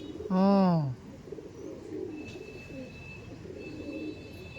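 Pigeons at a loft, with one loud, close coo rising and falling near the start, followed by softer, scattered bird calls and rustling over steady background noise.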